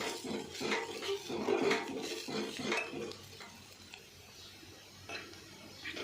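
Crumbled millet flatbread being stirred into fried onions in a pan: busy scraping and clattering of a spoon against the pan for about three seconds, then quieter, sparser stirring with occasional clinks.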